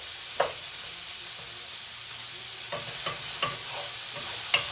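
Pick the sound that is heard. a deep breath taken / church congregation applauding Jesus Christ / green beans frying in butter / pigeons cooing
green beans frying in butter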